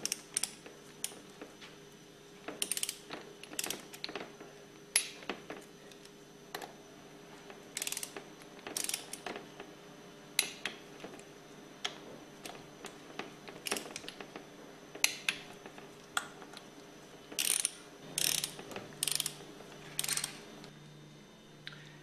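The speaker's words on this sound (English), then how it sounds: "Torque the head bolts to 175 inch-pounds in a crisscross pattern" Torque wrench ratcheting on the head bolts of a Hypro diaphragm pump, quiet, repeated clicking bursts in irregular runs over a faint steady hum, close up with no speech.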